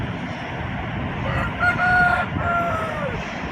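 A rooster crows once, fairly close, over a steady background hum, its call rising and stretching out.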